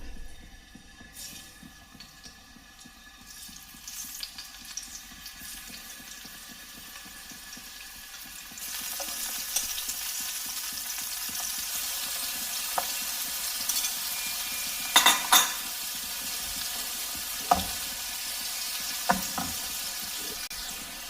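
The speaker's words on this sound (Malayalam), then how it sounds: "വെളിച്ചെണ്ണ ചൂടായി അതിലേക്ക് മീൻ ഓരോന്നും വെച്ചു കൊടുക്കാം" Fish pieces laid into hot coconut oil: a quiet pan at first, then a steady, full sizzle rises and holds, broken by a few sharp spits and pops; no one talks.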